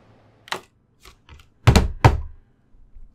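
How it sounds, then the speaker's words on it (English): A short rim-shot drum sting from the Clock Tower video game: a few soft clicks and then two sharp, loud rim cracks in quick succession, standing alone with no talk. "rim shot there"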